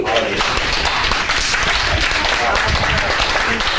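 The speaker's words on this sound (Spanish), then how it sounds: "Dale un aplauso, Señor." A church congregation applauding during a worship service, loud and dense clapping that stays steady, mixed with voices and cheering from the crowd.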